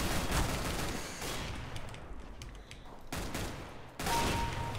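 Rapid Tec-9 pistol fire from a CS:GO deathmatch, loud dense bursts of shots rattling almost continuously, broken by short pauses before the volleys resume.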